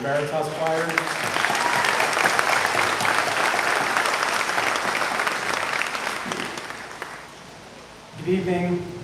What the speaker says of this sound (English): Can we get another round of applause for the Veritas Choir?